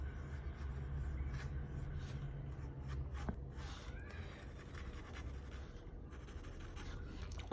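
Pencil on paper drawing two big black pupils for an anime character, a faint steady scratching and shading under low background rumble, close and quiet.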